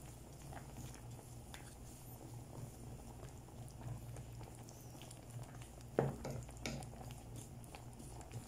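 Coconut milk simmering in a pot, a soft steady bubbling and patter that holds at low level throughout, with a few slightly louder pops and clinks near the end.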